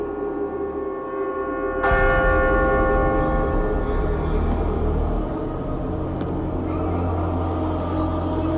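A church bell tolling in the video game Assassin's Creed, a single loud ringing strike over a low rumbling ambience, its tone lingering and slowly fading.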